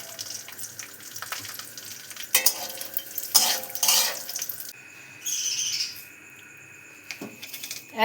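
Oil, cumin and rice are stirred in a hot kadai with cashews and raisins, giving bursts of scraping and sizzling that come in uneven waves with short pauses, close and moderately loud.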